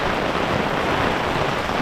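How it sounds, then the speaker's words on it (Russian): Heavy rain pours down in a dense, steady hiss on a city street in Korea during a downpour, loud and unbroken with no voices. "а сейчас что-то прям льет"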